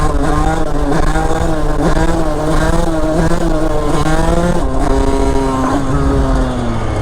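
A motorcycle revs hard through first and second gear during a wheelie, its loud engine note rising in pitch, dropping at a shift, then climbing again close by.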